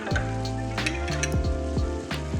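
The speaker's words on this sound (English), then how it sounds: "So I'm stirring that up in my whipping cream" Bouillon being stirred into whipping cream in a pot, with a spoon scraping and knocking the sides at a steady pace over a continuous sizzling simmer, close and fairly loud, no voices.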